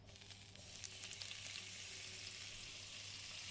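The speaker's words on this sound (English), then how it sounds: "You can hear that sizzling away." Hot dog sausages and onions sizzling in a frying pan, a steady, continuous hiss of frying fat with faint crackles and a low hum underneath, close and even throughout.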